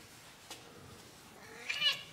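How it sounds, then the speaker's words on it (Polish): A half-feral cat, a tough outdoor tom, gives a faint short meow near the end, preceded by a brief soft sound, in a quiet outdoor setting. "to jest taki półdziki kot"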